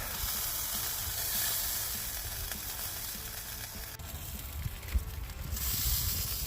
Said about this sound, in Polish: co skapuje na dół to skwierczy.